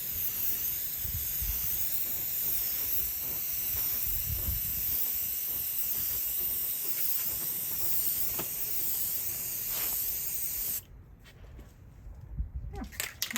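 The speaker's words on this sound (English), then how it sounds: "I'm gonna go ahead and do some spraying. So this is Krylon Satin Ivory" Krylon Satin Ivory spray paint hisses steadily from an aerosol can onto a rusty exterior surface. The spray is continuous and close for about ten seconds, then stops, leaving quieter handling noises.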